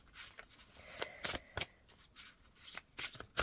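Tarot-style cards shuffled by hand for a reading, a series of quick riffling bursts and soft slaps in an uneven rhythm, close and fairly quiet with no speech.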